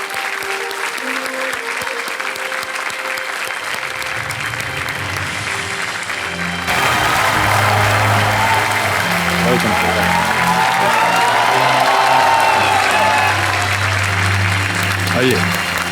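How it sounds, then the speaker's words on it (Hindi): Loud applause from a TV studio audience on the KBC quiz show set, welcoming an honoured guest and his wife; a quieter stretch swells into full, sustained clapping with music underneath. "उनकी पत्नी हेमा जी का जोरदार तालियों के साथ अभिनंदन किया जाए।"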